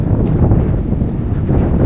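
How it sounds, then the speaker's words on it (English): Steady, rumbling wind near huge cliffs in Gran Canaria buffets the microphone, a continuous low roar with no voices. "It's kind of windy, but not like yesterday."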